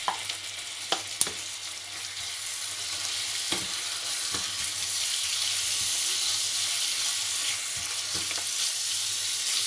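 Chicken hits a hot pan and fries with a loud, continuous hissing sizzle, a few clicks and stirring knocks early on, then an even crackle for the rest of the stretch.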